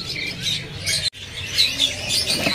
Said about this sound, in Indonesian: Ini ada burung perenjak atas dari Jawa Timur ya.